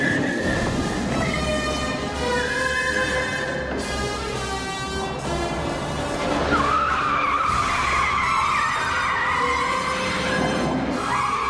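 A remote-controlled car from the Bond film Tomorrow Never Dies drives and skids, its tires squealing in long, shifting screeches over a steady engine drone, close and loud throughout.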